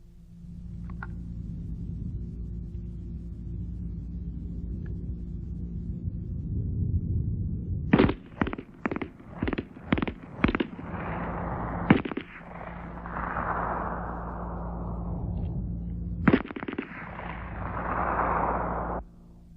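A WW1 MP-18 submachine gun fires at a range: a steady low rumble, then a rapid string of sharp cracks around the middle, followed by a single later shot with echoing tails.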